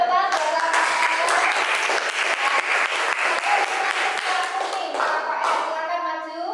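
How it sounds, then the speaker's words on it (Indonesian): Children in a classroom competition clap for the winner, Rafael, with steady applause from the start that fades near the end as a teacher begins talking. "Tepuk tangan buat Rafael."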